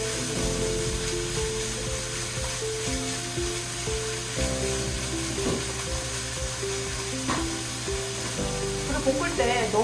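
Onions sizzle while being stir-fried in a pan, a continuous crackling fry with occasional stirring scrapes, and a quiet hum of background noise underneath.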